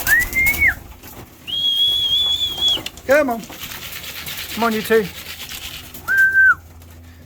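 Racing pigeons circle and come in to land at a home loft after a 75 km training flight, with bright whistles and chirps over light flutter while a man calls to the birds.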